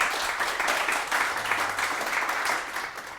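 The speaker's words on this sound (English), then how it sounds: "A quick round of applause for Gabe Weinberg" A fairly soft, continuous round of clapping from a Startup Grind Philadelphia audience, honoring Gabriel Weinberg of DuckDuckGo, sustained at an even level throughout.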